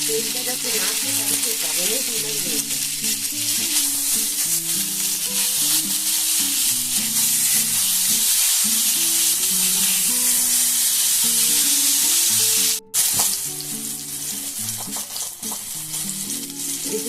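Chopped tomatoes frying in oil for chowmein give a steady, close sizzle with occasional stirring, running the whole time under background music, with a brief dropout near the end.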